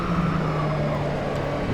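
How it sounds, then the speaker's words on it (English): A Nissan R390 GT1 race car engine in the racing game Automobilista 2 drones loudly and steadily at sustained revs, a dense close mechanical hum with a constant low tone throughout and no talk. "One thing that I do like about this is you can still hear the engine."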